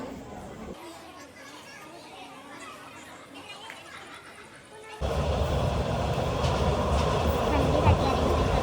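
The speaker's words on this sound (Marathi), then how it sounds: "आता आमची ट्रेन आलं" Train arriving at a station on a Kalyan to Shegaon journey: a steady platform murmur with children's voices, then a sudden loud swell of rolling rail noise that holds to the end.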